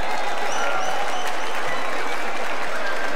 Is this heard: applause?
yes